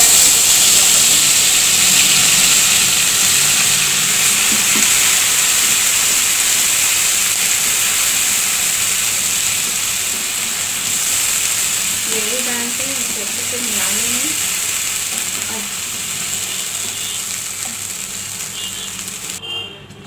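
Prepared gravy poured into hot oil with whole spices for methi matar malai, giving a loud continuous sizzle and steamy hiss that slowly softens, with faint stirring clinks partway through.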